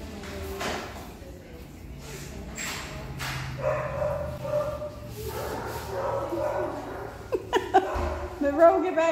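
A pet husky at a vet visit barks and growls playfully in short bursts close by, mixed with people talking and chuckling around her.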